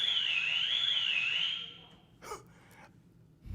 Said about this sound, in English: Oh, my alarm going off.